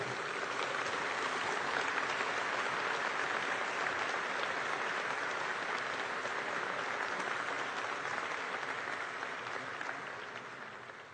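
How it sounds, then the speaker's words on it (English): Audience applause greets debaters walking up to the stage at a public debate on whether God speaks, a dense, steady wash of many hands clapping that holds for about eleven seconds before tapering slightly at the end. "you can give them a round of applause as they come up"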